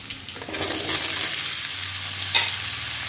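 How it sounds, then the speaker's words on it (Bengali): Diced potato and papaya sizzle in a pan with onion for a Bengali potato posto, a steady close frying hiss broken by a few scrapes of stirring, with no talk. "এবার একসাথে ভেজে নেব ভালো করে।"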